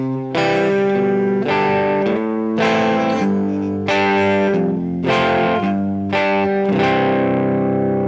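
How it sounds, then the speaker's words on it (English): Chord progression played with inversions so the bass line moves stepwise beneath, heard as loud, sustained, heavily processed chords changing roughly every second, with no voices. "In this example, the bass line moves, and that motion is created using chord inversions."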